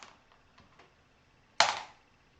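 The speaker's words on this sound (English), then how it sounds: "That's got quite a loud clunk, and the other charcoal is a softer drop." A piece of compressed charcoal drops onto a surface with one sharp, loud clunk that rings briefly, after a few faint, soft taps.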